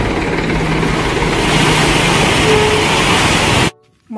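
Toy dump truck sound effect: a steady loud engine drone with brief horn tones, stopping abruptly just before the end.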